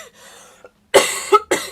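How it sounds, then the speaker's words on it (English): Two or three harsh, close coughs in quick succession follow a short stretch of faint background sound, loud and dry with brief gaps between them. "If I start coughing in the middle of the live stream"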